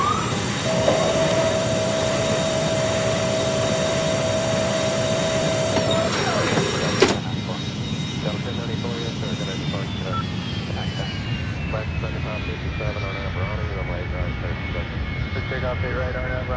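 A Boeing 737 jet departing Trabzon International Airport, heard as a loud, steady broadband engine roar with a high whine. The tone shifts partway through and the roar then continues at a constant level.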